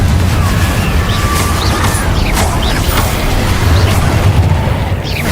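Confringo explosive spell blasts in Hogwarts Legacy, played on hard difficulty: dense, continuous booming with repeated crashing bursts and crackling impacts, loud and sustained throughout amid busy combat effects.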